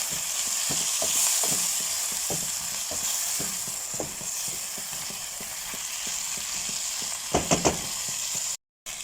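Tuna pasta being stirred in a hot pan, a continuous sizzle with repeated scraping taps of the utensil against the pan, a few sharper clicks near the end before a short dropout.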